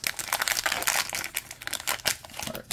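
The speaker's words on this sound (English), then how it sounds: "Top of the pack doesn't want to open" Football card pack wrapper from a 2022 Score hobby box being torn and crinkled open, a close, continuous crackling with sharp tearing bursts throughout, no talking.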